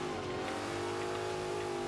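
A vintage Ford Mustang engine in Forza Motorsport 5 holds a steady, loud, close droning rev with a strong, even tone throughout, no voices.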